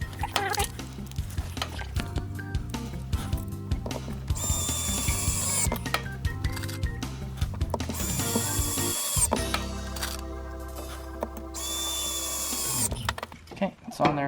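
Hand tools at work while an electrical box is mounted in a garage, with ratcheting clicks, drill-like whirs and scraping bursts through most of the stretch, close and fairly loud, alongside occasional speech.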